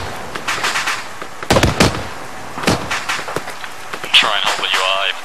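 Gunfire crackles in the ARMA 3 combat game as shots come from the southwest, several sharp bursts scattered across the moment, with radio-style voices talking over and between the cracks.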